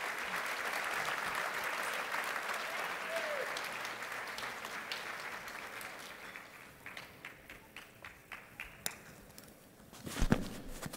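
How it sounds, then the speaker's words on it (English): Applause at a state political party's convention gala in Orlando, a large crowd clapping steadily before thinning into scattered claps, with a voice briefly heard. "So let's give them a round of applause."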